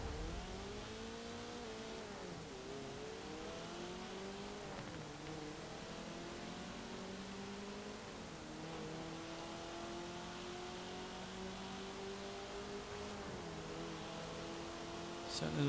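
A Mazda MX-5 engine in Forza Horizon 4 drones continuously through repeated rises and dips in revs across gear changes, heard at moderate level throughout.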